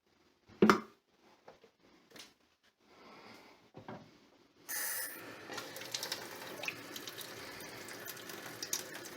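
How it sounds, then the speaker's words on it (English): Water is poured into a blender for a banana smoothie, starting after a few light clicks and knocks and running as a steady splashing, filling stream to the end. "I'm just going to add some water."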